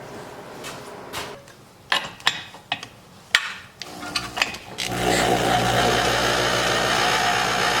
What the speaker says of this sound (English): I'm going to grab my impact driver, put it on the nut here, and we can just spin this